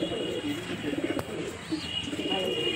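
Madrasi pigeons coo nearby in low, repeated throaty calls, close and moderately loud against faint background noise.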